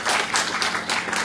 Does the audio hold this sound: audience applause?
yes